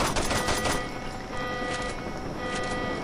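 Gunfire in a Saints Row 2 prison escape, a loud sustained burst of rapid automatic shots at close range, steady and dense with no pauses, heard alone without talking.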